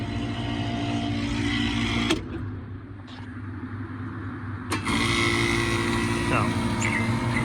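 A Masterbilt display freezer's compressor runs with its fans off, giving a steady low mechanical hum with tonal harmonics that carries through the whole stretch and dips briefly around a couple of clicks.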